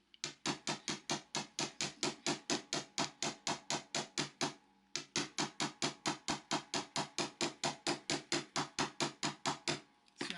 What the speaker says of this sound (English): I'm hammering towards the outside of that loop